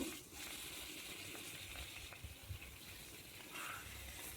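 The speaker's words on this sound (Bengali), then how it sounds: "এবার মাছটাকে উল্টে দিয়ে অপর পাশটা ভেজে নেব।" Fish sizzles steadily in hot mustard oil in a wok, a continuous close crackling hiss with faint clinks and a brief louder stir of activity near the end.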